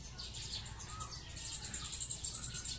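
Small birds chirp and tweet in a farm flower garden with a flowering tree, a busy run of quick high calls that grows denser and louder toward the end, with no talk.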